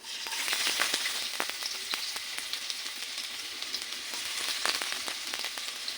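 Chopped onion sizzles steadily in hot oil with cumin in a kadai, a dense crackling hiss with scattered sharp pops, fairly close and even throughout, with no voices.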